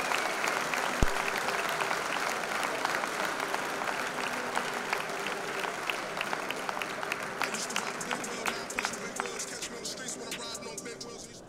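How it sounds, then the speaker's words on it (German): A crowd applauds after a women's kickboxing bout between two debutants at a fight night event, steady dense clapping throughout, loud and sustained, thinning toward the end, with a voice talking over it. "ein riesen Applaus für beide Debütantinnen"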